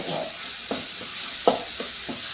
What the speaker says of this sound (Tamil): ஸோ தக்காளி இப்போ வதங்கிட்டுருக்கு.